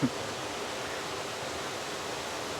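Steady broadband rush of water pouring down a waterfall, a constant hiss-like roar at close range with a brief knock at the start and no talking.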